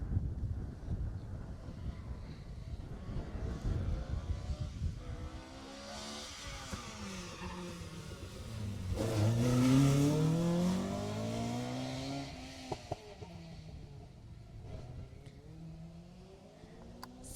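Rally car number 29 on a closed stage at the Jersey Rally, passing close with a rising engine note that swells and Doppler-drops around the middle, then fades away amid wind noise.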